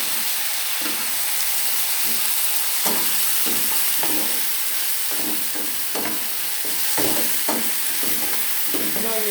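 Chopped tomato frying with browned onions in a pan gives a steady loud sizzle, broken by repeated scraping and stirring clatters from a spoon against the pan, close up.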